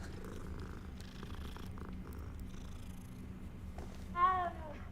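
In the Hogwarts Legacy video game, a cat purrs softly while being petted, a faint, low continuous rumble topped by a short meow near the end.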